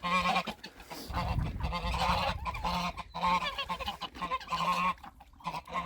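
Geese and ducks on a farm wildlife pond, loud close honking calls repeating almost continuously with a low rumble of splashing and outdoor noise beneath, no talk.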